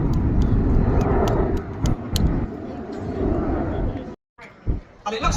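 Red Arrows jets fly past at an Armed Forces Day air display in Newtownards, a broad, distant rumbling roar that fades, with crowd chatter and a voice over it, then a brief drop-out.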